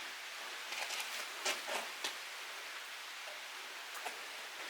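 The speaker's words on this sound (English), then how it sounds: "It's raining in the building." Rain falls inside an abandoned asylum building as a soft, steady patter of drops and drips, with scattered louder splats standing out against the hiss.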